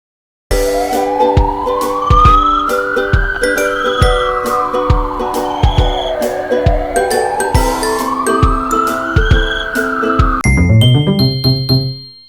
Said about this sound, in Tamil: அவசர சிகிச்சை ஊர்தி அவசர சிகிச்சை ஊர்தி